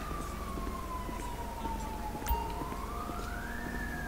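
An ambulance siren in GTA 5 with the LSPDFR mod wails steadily at moderate distance during a sandstorm, its pitch sliding slowly down then up, over a low engine rumble.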